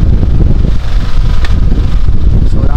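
Strong northeast monsoon wind roars over a small fishing boat at sea off Baler during a storm, a loud, constant broadband rush with buffeting on the microphone and no pauses.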